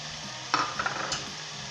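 Potatoes are stirred into spiced moong in a hot pan over high heat, a soft scrape and brief sizzling rustle rising for a moment above a quiet, steady frying hiss.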